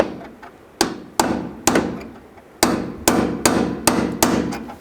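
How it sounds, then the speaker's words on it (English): A hammer drives a small punch against the door hinge pin of a 2002-06 Chevy Avalanche: eight sharp metallic strikes, close and loud, each ringing briefly in an uneven rhythm with short pauses between. "Just get a small punch and a hammer."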